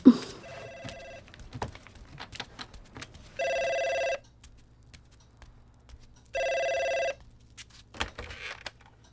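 An old-style telephone bell rings in two long bursts with a pause between, loud and close, with faint rustling and clatter around it.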